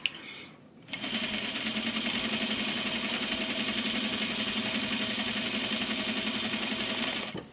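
A sewing machine stitching an exposed zipper into a garment, starting after a brief quiet moment and then running in a steady rapid mechanical whir with fast needle clatter until it stops near the end.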